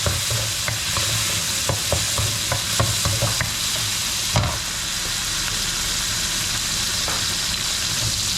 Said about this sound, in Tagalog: Bawang, sibuyas, kamatis. Pwede nyo rin gawin pakuluan lang, lagyan yung bago, pero sa akin is igigisa natin.